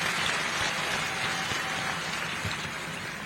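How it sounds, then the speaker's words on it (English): A large conference-hall audience at a union's silver jubilee celebration applauds its teachers with dense, sustained clapping. The applause stays even and continuous from start to finish, heard from within the crowd, with no voices over it. "Let's clap for all our teachers."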